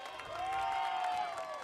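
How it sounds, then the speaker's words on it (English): Spectators at a boys soccer Class A semifinal, Lawrence vs Floral Park, applauding and cheering from a distance, a soft continuous wash of clapping with a whistle-like tone rising over it. "how about Liam Quinn getting a big round of applause as he heads off the field"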